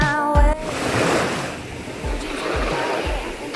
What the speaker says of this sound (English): Were the waves trying to take you down?